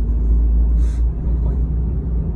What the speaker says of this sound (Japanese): エンジンの音低くなってる感じしません？